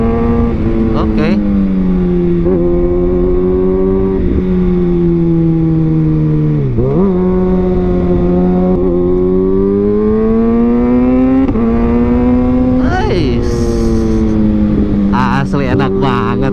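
A 2021 Kawasaki Ninja ZX-6R runs steadily while being ridden, its engine note holding and then rising and dipping with gear and throttle changes. The sound is loud and close throughout, with brief bursts of wind noise near the end.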